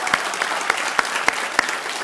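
A small audience at a debate in a Warsaw theatre claps sparsely, with distinct individual hand claps spaced irregularly over two seconds against a soft background murmur of room noise.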